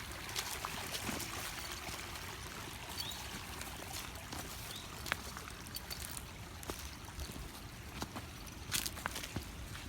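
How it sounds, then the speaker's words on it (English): A creek running beside a hiking trail at Mountwood Park makes a soft, constant trickle, faint and steady, with light footsteps on the path mixed in. "Nice creek running next to it."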